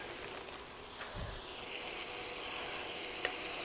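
Cubed potatoes frying in a hot breakfast skillet, a steady dense sizzle with a faint thump as they go in, continuous and close with no talking.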